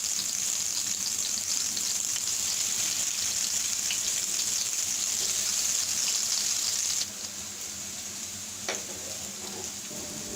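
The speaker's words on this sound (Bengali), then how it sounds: "এবং তেলটা গরম হয়ে গেলে আমি মিষ্টি কুমড়াগুলো হালকা করে ভেজে নিব।" Pumpkin pieces fry in hot oil with a steady, soft sizzling hiss that drops noticeably quieter partway through, followed by a few small clinks near the end.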